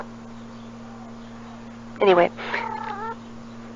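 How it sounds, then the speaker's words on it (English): A cat in heat lets out a loud, drawn-out yowl followed by a quavering second meow in the background of a quiet room while someone speaks briefly. "I guess you can hear my cat in the background."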